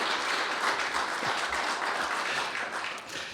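An audience at a tribute ceremony in Washington, DC applauds a speaker's introduction, a full, even wash of many hands clapping together that tapers off slightly at the end.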